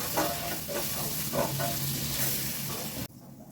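Goulash with caraway sizzles in a pan while it is stirred, making a steady close frying hiss with several soft scraping strokes. The sound cuts off abruptly near the end.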